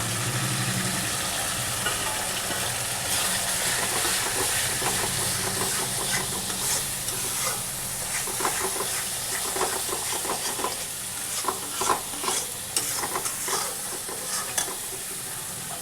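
Potatoes sizzle loudly in a kadai for alu dum with tomato sauce and spices, a steady close frying hiss broken by repeated scraping stirs, with no talk.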